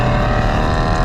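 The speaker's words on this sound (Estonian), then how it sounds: "see urin, mis sealt kapoti alt tuleb" A car fitted with a Ferrari engine and an automatic gearbox roars under load, a deep sustained engine drone heard close and loud, steady with no talk over it.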